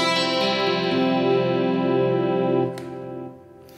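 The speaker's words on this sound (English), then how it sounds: "It's just a digital delay, darkened a tiny bit." Electric guitar playing jangly chords through a digital delay with a slightly darkened tone, ringing sustained notes with soft repeating tails that fade out after the strumming stops, loud and close with no talking.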